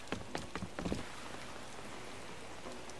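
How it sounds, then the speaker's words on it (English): Steady hiss of rain falling on an island in the video game Animal Crossing: New Horizons, heard alone and fairly faint after a few soft tapping sounds at the start. "Why is it raining on so many of the islands I visit?"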